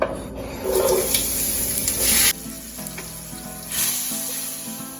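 Onion, garlic and tomato sofrito frying in olive oil in a paella pan, a steady loud sizzle with occasional stirring scrapes, briefly louder bursts as ingredients shift.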